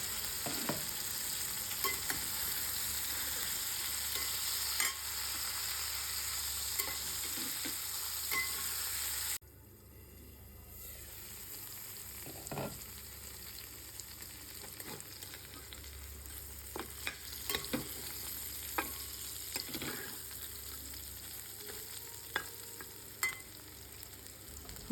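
Potato, eggplant and mango pieces for a mixed curry fry in a pan, a steady soft sizzle with occasional light stirring taps; a lid or change near the middle drops the hiss quieter, continuing evenly without voices.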